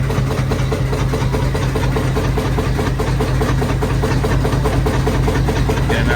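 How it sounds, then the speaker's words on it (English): A Wilson engine runs loudly inside an engine shed at a cotton gin heritage harvest event, giving a steady, dense rumble with rhythmic mechanical knocking throughout and no pauses. "here's the Wilson engine shed."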